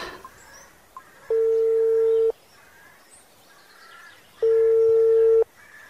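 A telephone on a call gives two loud, steady electronic tones, each lasting about a second, separated by a quiet gap with faint background sounds.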